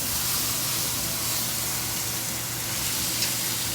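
Onions and butter sizzling in a hot pan beside a ribeye steak, a steady close hiss and crackle of frying that runs evenly throughout with no talk.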